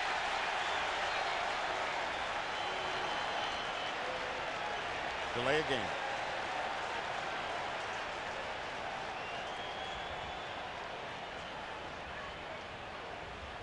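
A football stadium crowd at a Buffalo Bills home game against the Indianapolis Colts in 1999 roars steadily, a broad sustained din with a brief whistle and a voice speaking over it.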